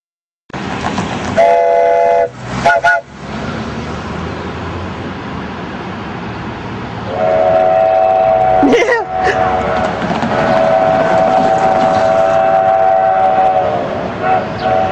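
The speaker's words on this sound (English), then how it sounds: "We'll see you when the trains come in." The Durango and Silverton train arrives with loud, close horn or whistle blasts, a rumbling, clattering rail roll and a long sustained whistle tone near the end, with voices heard in the background.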